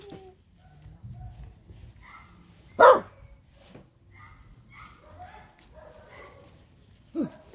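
A dog gives a single sharp bark, then a quieter second yelp a few seconds later, over faint background chatter and household noise.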